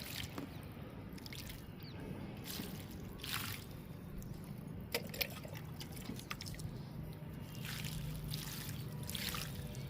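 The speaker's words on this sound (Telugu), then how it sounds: "ఫస్ట్ కొంచెం వాటర్ పోద్దామండి" Water is poured gently into potting soil in a garden pot before planting vinca seedlings, a faint, close trickle and dribble with soft splashes over a quiet background.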